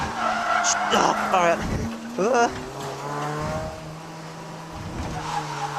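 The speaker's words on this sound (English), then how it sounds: "The old no-hander drift technique doesn't work very well in a front-wheel drive car." A front-wheel-drive Honda Prelude drifts on a winding mountain road, its tires squealing in repeated rising bursts over a steady engine drone, while people talk inside the car.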